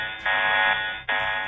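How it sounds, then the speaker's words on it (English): A harsh electronic alarm buzzes loudly in two long bursts in the Very Large Telescope control room, a steady droning tone with a brief break between them. "suddenly, an alarm rings and calls for their undivided attention"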